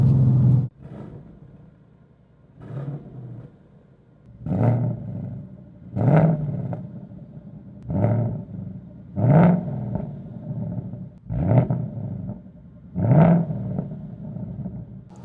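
A 2019 Ford Mustang Bullitt V8 revs repeatedly, about eight sharp throttle blips rising and falling in a regular rhythm, loud and close with rumbling idle between them.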